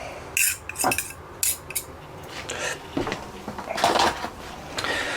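Utensil clinks and scrapes against a pot as chunks of homemade steak pie are broken up, a series of sharp irregular knocks and clatters, close and moderately loud, with no talking.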